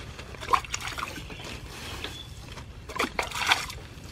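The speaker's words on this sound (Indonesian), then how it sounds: "kita siram pakai air ya" Water poured over a home-scale straw mushroom growing bed gives faint, intermittent trickles and soft splashes in a quiet room, with a few brief louder bursts.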